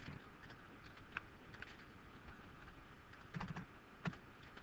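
Computer keyboard typing, soft scattered key taps with a brief faster burst near the end, faint and close against a quiet room with no talking.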